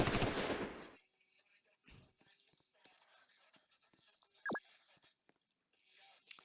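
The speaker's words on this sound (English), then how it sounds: "It's a really cool firing animation. It fires twice" Artillery unit in a video game fires twice, giving one loud close blast and then a sharp second report, followed by faint scattered game sounds.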